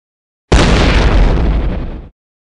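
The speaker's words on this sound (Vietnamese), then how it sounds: "Tiếng súng nổ ở hướng cuối chợ." Gunfire from an animated war film comes as one loud, abrupt blast that cuts in sharply, holds for about a second and a half, then stops dead into silence.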